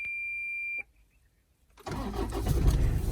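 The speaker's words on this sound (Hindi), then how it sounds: "डीजल इंजन है। तो वाइब्रेशन तो गाड़ी में, आप इसके एक बार नॉइस सुन लो अंदर कितनी है।" Inside a Toyota Innova, a steady tone cuts off into a second of silence before the diesel engine cranks and catches, then settles into a loud, rough idle heard from the cabin.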